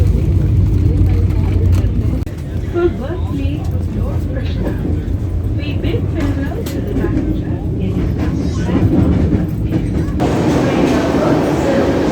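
Interior of a stationary passenger train at Mathura in India awaiting departure, with a steady low rumble of idling equipment and ambient carriage noise, faint voices murmuring throughout.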